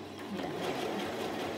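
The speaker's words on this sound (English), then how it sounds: "Just gonna sew the channels in." A sewing machine stitches channels into a summer romper, running as a steady, close whirring hum throughout with no pauses.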